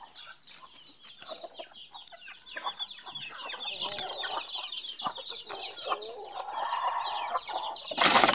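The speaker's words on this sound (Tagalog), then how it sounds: "So, ito yung aking mga makukulit na manok" A backyard flock of chickens clucking and chattering close by, many overlapping calls growing busier and louder, with a brief flutter of wings at the end.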